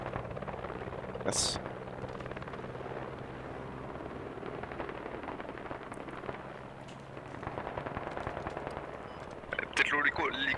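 A helicopter in the military shooter Squad thrums steadily in the distance under a dense battlefield backdrop of scattered gunfire and occasional sharp cracks.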